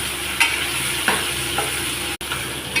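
Onions fry in a pan while being stirred, a continuous close sizzle punctuated by a few light scraping strokes and one brief dropout, with no talking.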